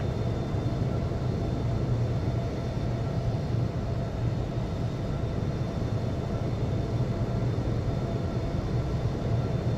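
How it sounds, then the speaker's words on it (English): A simulated Boeing 757 taking off in the Infinite Flight game, a constant loud broadband jet engine roar with a low rumble, steady throughout with no talk. "November 910 Victor Victor is taking off runway 27 left"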